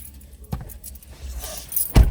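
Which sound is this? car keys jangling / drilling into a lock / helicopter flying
car keys jangling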